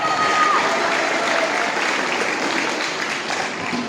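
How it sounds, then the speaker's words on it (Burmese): Audience applause in honor of contestants at a youth Bible memorization recitation competition, a dense, steady clapping that fills the whole stretch without pause, with a brief tone near the start. "အားရပါရတီးပြီးတော့ဂုဏ်ပြုပေးကြရအောင်"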